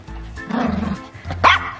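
A dog barks at a pair of new puppies indoors, giving a close, loud bark followed by a second sharp yelp-like bark within a couple of seconds.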